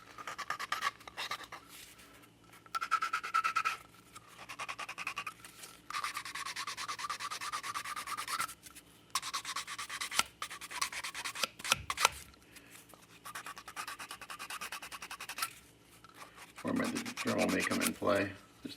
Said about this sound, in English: I'm just going to have a 100 grit sanding stick here.